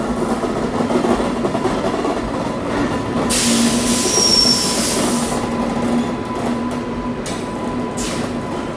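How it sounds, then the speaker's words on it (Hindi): A freight train hauled by a WAG9 electric locomotive passes through near Agra Fort station, a steady close rumble of wagons and wheels on rail with a brief metallic squeal partway through, heard without talk. "मालगाड़ी जो है आगरा फोर्ट स्टेशन को स्किप करने वाली है।"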